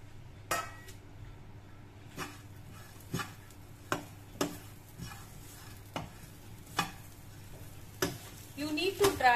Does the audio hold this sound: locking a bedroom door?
no